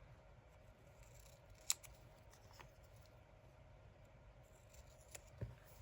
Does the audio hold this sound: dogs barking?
no